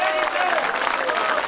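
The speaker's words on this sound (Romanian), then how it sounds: "încă un rând de aplauze pentru acești oameni minunați" Festival audience applauding a vocal-instrumental folk group at a mountain celebration, a dense, steady wash of clapping over the short span with a faint tonal line running underneath.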